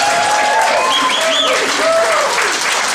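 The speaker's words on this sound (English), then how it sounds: "please give them a round of applause for that" Audience applause for a house comedy troupe at a monthly revue, steady dense clapping under a voice speaking over it.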